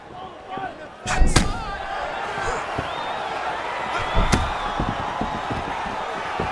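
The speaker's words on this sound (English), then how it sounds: "Nasty high kick." Heavy strike impacts land in the UFC 6 video game, a sharp thud followed by another hard hit later, over continuous arena crowd noise and commentary voices.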